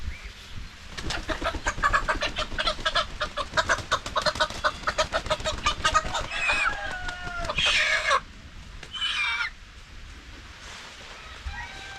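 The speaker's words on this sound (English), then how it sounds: "I think we got 5 chickens here." Around five chickens being moved into a chicken tractor, clucking and squawking close by: rapid bursts of clucks give way to a few louder cackling calls, with a person speaking in between.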